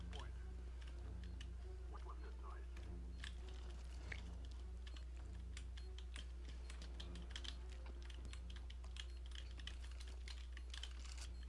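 Rapid clicks of a new computer keyboard are typed close by in uneven bursts, heard quietly over a constant low electrical hum.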